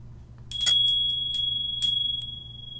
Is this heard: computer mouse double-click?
no